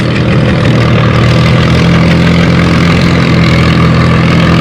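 A pulling tractor sits at a steady, heavy low idle during a tractor pull competition on a dirt track, its loud engine rumbling continuously and close by with no one talking.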